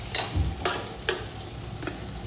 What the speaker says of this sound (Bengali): শিমটা দিয়ে শিমটাকে একটু হালকা ভেজে নিচ্ছে